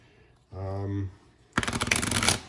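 A voice speaks briefly, then a deck of cards riffles in one quick, crisp bridge shuffle, loud and close.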